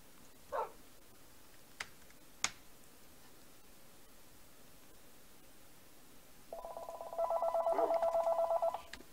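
After a few faint knocks and clicks, a telephone begins ringing in a steady electronic warble, moderately loud and continuous for a couple of seconds, with a soft bark-like sound briefly mixed in.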